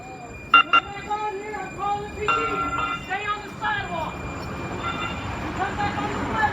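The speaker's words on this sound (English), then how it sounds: "I sure hope this train stops for me." A train pulls into a station close by, with rumbling wheels and a rising squeal of brakes, brief horn-like tones, and a couple of sharp knocks early on, all under ongoing background noise.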